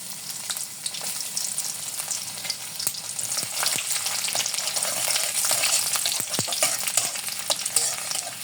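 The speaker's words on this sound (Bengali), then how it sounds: "হালকা একটু ভেজে নেব" Chopped garlic frying in oil with panch phoron, a steady close hiss of sizzling with occasional soft clicks and scrapes of stirring throughout.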